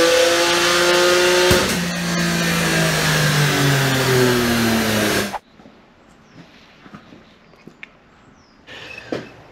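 A car engine revs loudly and runs near, rising and falling in pitch for about five seconds before cutting off abruptly, followed by quiet with scattered faint clicks and knocks.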